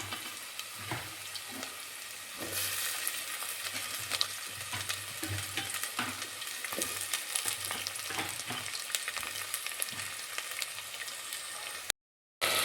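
Mustard seeds and potatoes frying in hot oil give a dense, continuous sizzle with crackling pops and stirring clatter, steady and close, cut briefly by a short silent gap near the end.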